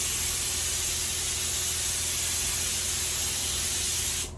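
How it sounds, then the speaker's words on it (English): A spray gun running at about 42 psi lays two-pack paint onto the flat panel of a Peugeot J9 van, giving a steady, loud hiss that runs without a break and stops abruptly near the end. "Spraying onto a flat surface is really good."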